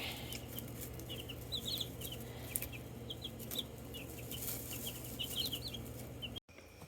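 Chickens cluck in short scattered bursts over a steady low outdoor hum, with no talking.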